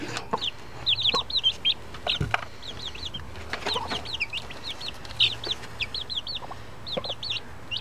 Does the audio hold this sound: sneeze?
no